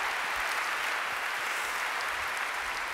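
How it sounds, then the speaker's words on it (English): A live studio audience applauds a science presenter, with steady, dense clapping held at a loud, even level for the whole stretch and no voices over it. "Give him a round of applause"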